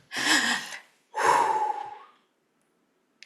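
A deep breath heard up close with no other sound, one sharp gasping intake followed after a short gap by a long sighing exhale that trails off into silence.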